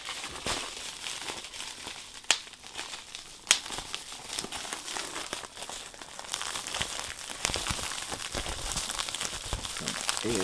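A Priority Mail package crinkles and rustles as it is handled up close. The crackle is continuous, with a couple of sharp snaps of the packaging.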